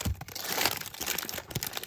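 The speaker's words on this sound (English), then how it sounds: "Rip that open." A foil baseball card pack wrapper is ripped open close up, giving brief crinkling and tearing bursts with quiet rustling between them and no talking.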